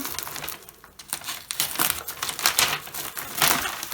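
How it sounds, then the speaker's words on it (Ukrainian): Close crinkling and rustling of a plastic bubble mailer holding comics, irregular bursts of handling noise that swell louder toward the end. "Ну, ці пакети, до речі, непогані, вони мають пупирку."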